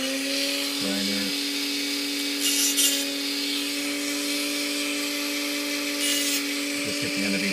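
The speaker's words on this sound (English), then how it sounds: "I'm going to just square them off really quick on the ends here. And the way I do that is just run the" A grinder runs continuously as it squares off the ends of metal rods for an On3 hopper model, a steady high whine with brief louder bursts of grinding contact against the rod ends.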